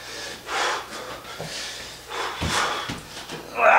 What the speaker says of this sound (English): You hear me breathing hard.